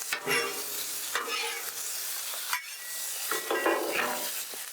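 Sausage sizzling on a Blackstone flattop griddle, a steady close hiss of frying broken by several spatula scrapes and stirs, with no talking.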